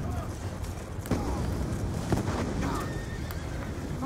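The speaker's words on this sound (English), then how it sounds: "shooting while I'm riding a horse and reloading" In the video game Black Ops 2, a horse neighs and gallops with steady clip-clop hoofbeats amid gunfire and game noise, with a player talking over it.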